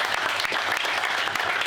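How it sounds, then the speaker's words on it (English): A small group of football club players and staff applaud in a brief burst of close, crisp clapping with audible individual hand strikes. "So round of applause for you guys."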